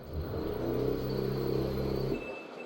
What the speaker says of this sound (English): I noticed I'm getting this weird spinning of the drum.